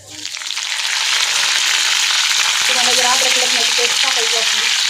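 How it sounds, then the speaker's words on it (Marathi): Mustard seeds and cumin seeds frying in hot oil in a pan give a steady, close, loud sizzle that builds in the first second and holds, with crackling spits and the odd stir heard on top. "आता बघा तेल गरम झालेलं आहे त्याच्यामध्ये एक चमचा मोहरी एक चमचा जिरे आता जिरे मोहरी चांगली तळू द्यायची आहे"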